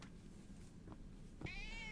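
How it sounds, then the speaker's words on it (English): A cat meows in The Legend of Zelda: Tears of the Kingdom, down in the dark Depths: a single soft, drawn-out meow near the end after quiet ambient game hum. "Fluffy Kitty deserves the pets?"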